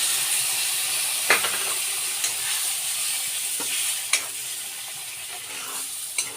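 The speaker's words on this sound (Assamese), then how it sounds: "ফ্ৰাই হৈ গৈছে মানে পানী দি দিছোঁ।" Jackfruit curry masala frying in a pan, a steady close sizzle with a few sharp spoon scrapes and taps against the pan, no talk.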